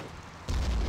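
Artillery firing in the Chechnya Mod video game set in the battle for Grozny, one sudden heavy boom that rolls on with a deep rumble, loud and close, with no talking.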